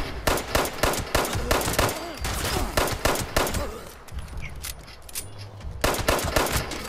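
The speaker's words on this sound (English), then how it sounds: "Why are they shooting at me?" Rapid gunfire aimed at the player in the video game Fallout 76, loud automatic bursts in quick repeating volleys that pause briefly and then resume.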